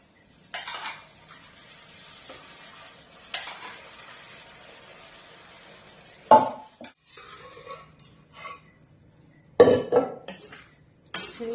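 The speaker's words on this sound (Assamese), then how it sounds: "ধুনীয়াকৈ লৰাই দিম" A ladle stirring boiled beans and lentils with green chillies in a metal pot, scattered bursts of scraping and clinking against the pot separated by quiet stretches, close and fairly soft.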